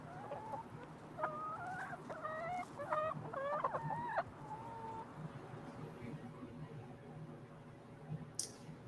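Chickens clucking outdoors on the range of an egg farm, a cluster of bright, rising clucks and calls from several birds close by over a steady outdoor background, then quieter.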